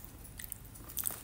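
Crisp bites into crunchy mixed vegetable and fruit chips, such as potato and zucchini, with two or three quick crunches close to the mic and no talk.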